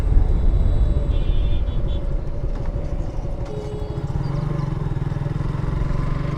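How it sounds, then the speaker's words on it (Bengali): A Suzuki Gixxer Monotone 155cc motorcycle revving and pulling away, its engine a loud, steady throb up close that rises in pitch as it gains speed. "আপনাদেরকে আমি বাইকটা একটু টান দিয়ে দেখাবো"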